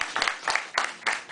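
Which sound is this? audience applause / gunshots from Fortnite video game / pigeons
audience applause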